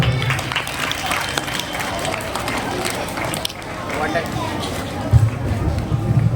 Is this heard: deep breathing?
no